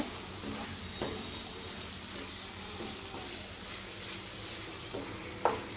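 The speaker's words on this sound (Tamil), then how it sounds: "இப்போ இது கூட சேர்த்து நல்லா கலந்து விட்டுக்கலாங்க எல்லாத்தையும் நல்லா மிக்ஸ் பண்ணிக்கலாங்க" Grated jaggery is stirred into mango pachadi in a pan, a soft continuous scraping and gentle bubbling with occasional spoon knocks against the vessel, steady and moderately quiet with no talk.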